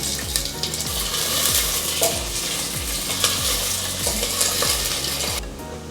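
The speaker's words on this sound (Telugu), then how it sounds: "ఆయిల్ వేడెక్కిన తర్వాత ఉల్లిపాయలు వేసుకోవాలి." Onions hit hot oil in a pressure cooker and sizzle loudly and steadily, with a ladle scraping and stirring against the metal pot in a regular rhythm throughout.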